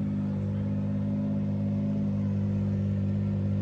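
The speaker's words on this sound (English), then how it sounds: "you can hear a vehicle. It is not this McLaren." A low, steady engine rumble from a Nissan R34 GT-R idling in the background at Road America, even and continuous with no changes in pitch.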